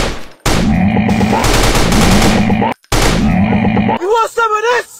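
Rapid automatic gunfire from the Android shooter game Commando Run rattles in loud, sustained bursts with one brief pause, followed by a soldier's voice calling out over the action.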